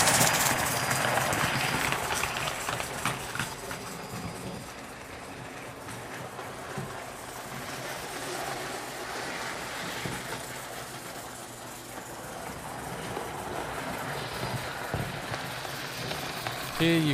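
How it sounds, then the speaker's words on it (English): A 00 gauge model branch line train passes by, a soft continuous rolling rumble with faint clicking wheels that swells and fades gently over about seventeen seconds. "Now a branch line train passes by."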